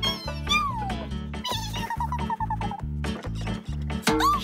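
A cartoon little orange cat gives several bright, sliding meows over a bouncy children's music backing with a steady beat.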